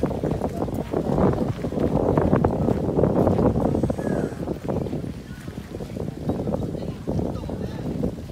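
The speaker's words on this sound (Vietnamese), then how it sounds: "gió to quá các bạn ơi" Strong, cold wind buffets the microphone outdoors on the grounds of Nagoya Castle in Japan, producing a loud, continuous low rumble that surges and eases across the whole stretch with no speech.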